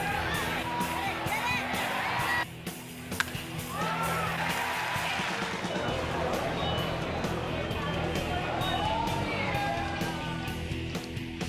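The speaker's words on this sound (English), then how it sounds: "Good crowd here at Space Coast Stadium today." Spring training baseball crowd at Space Coast Stadium for a Nationals game, a steady wash of cheering, chatter and whoops from the stands throughout, with a commentator talking over it.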